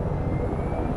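A continuous low, throbbing video game helicopter rotor-and-engine drone holds steady and loud throughout, with no pauses or voices.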